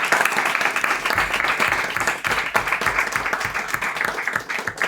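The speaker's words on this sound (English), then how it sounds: "With a huge round of applause, let's appreciate the efforts of Toastmaster Angad Palkar." An audience at a Toastmasters club meeting applauds steadily, a dense sustained round of clapping with no pauses.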